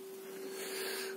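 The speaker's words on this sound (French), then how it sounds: "on entend quand même bizarrement la pompe de gavage qui fonctionne" The fuel lift pump of a Peugeot 406 HDI runs with the ignition on, giving a faint, steady electric whine at one constant pitch over a quiet background.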